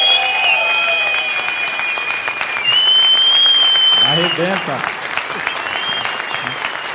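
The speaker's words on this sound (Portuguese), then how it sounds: "uma salva de palmas de pé" A conference crowd at a summit gives a standing ovation, with loud, dense clapping, shrill whistles and shouted cheers. A voice calls out briefly amid the noise.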